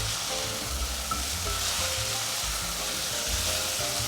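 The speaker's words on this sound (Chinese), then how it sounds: "让食材炒均匀" Pumpkin and mushroom stir-frying in a pan, with a steady, continuous sizzle and soft scraping from tossing the pieces, close and even throughout with no voices.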